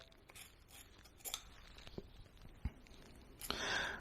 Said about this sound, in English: using the scissors to cut the hair around the head area because she does not like the clippers